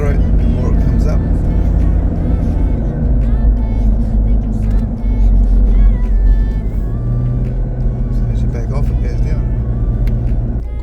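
A diesel vehicle engine pulls uphill under acceleration, a loud continuous low rumble with road noise throughout.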